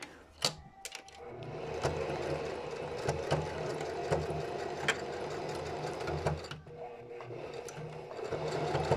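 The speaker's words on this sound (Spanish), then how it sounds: "Esta puntada de zigzag o de cadeneta la vamos a realizar justo en el borde de nuestra bolsa" A sewing machine runs a zigzag or chain stitch along the edge of a bag, whirring steadily and close up for several seconds after a few clicks at the start, with a brief pause near the end.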